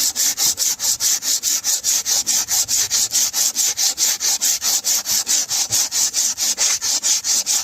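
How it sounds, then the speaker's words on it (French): Polyester body filler on a Peugeot 207 bumper is sanded by hand, producing steady, rhythmic back-and-forth scraping strokes, close and even, about four per second. "là on est en train de poncer le mastic polyester"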